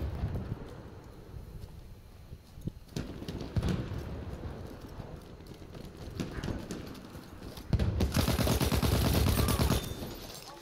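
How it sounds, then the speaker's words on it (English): Gunfire in Battlefield 1, scattered shots and rapid bursts at moderate distance over constant wind and movement noise, swelling into a dense loud barrage near the end. "I can hear them bullets snapping past me."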